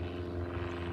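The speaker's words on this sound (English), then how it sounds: "Like this plane going by." A propeller airplane passing overhead gives a steady droning hum with strong low tones, continuous and moderately loud, no voices.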